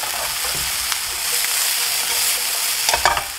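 Abalone with its innards and green pepper frying and being stirred in a pan, a loud continuous close sizzle with scraping stir strokes, no talk.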